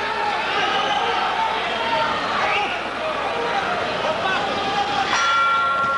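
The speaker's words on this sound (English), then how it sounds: "Savon hitting after the bell" Boxing bell ringing to end round 2 of a heavyweight semifinal at the 1992 Olympics, bright tonal strikes under loud, continuous crowd noise and commentary.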